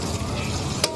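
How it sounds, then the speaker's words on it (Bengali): Whole spices sizzling in hot oil for a Bihari chicken curry: bay leaves, dried red chillies, black and green cardamom, cinnamon and cloves frying with a steady crackle, plus a quick stir. "মশলা থেকে গন্ধ বেরোনো অবধি এটাকে ফ্রাই করে নেব"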